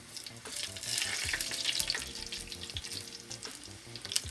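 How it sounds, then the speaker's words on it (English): Garlic and thyme fry in hot oil with a busy, crackling sizzle and scattered sharp pops of spattering, moderately loud and close, without any talking. "So I'm just getting all this to burn a bit, get the garlic to burn."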